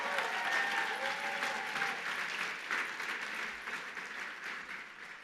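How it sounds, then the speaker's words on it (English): Audience at a Human Rights Campaign gala in New York applauds steadily, a dense sustained roar of clapping throughout, with faint voices mixed in. "Let's give them a round of applause."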